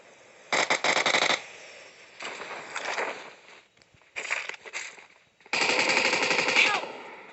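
Rapid automatic gunfire in a first-person shooter video game, four separate bursts of rattling shots with short gaps between them, close and loud.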